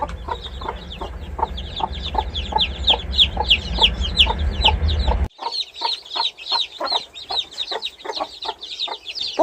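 Broody hens in an enclosure with young chicks under a heat lamp, giving a steady run of close, rhythmic clucks mixed with high, repeated chick peeps, fairly loud with no talking.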